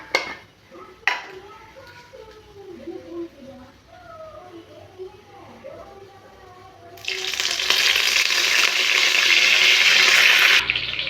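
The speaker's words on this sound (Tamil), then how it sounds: "கருவேப்பிலை பொரிஞ்சதுமே" Mustard seeds and curry leaves spluttering in hot oil, a loud dense crackling sizzle that bursts in partway through after a stretch of quieter kitchen sounds with someone talking, then cuts off near the end.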